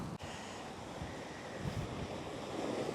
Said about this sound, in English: See mist coming up there where it's splashing against the rocks. Get some big waves around here. It is the Atlantic Ocean after all.